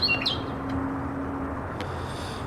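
A single bird chirps loudly at the start of a morning scene, with short high calls near the beginning over a steady low background hum.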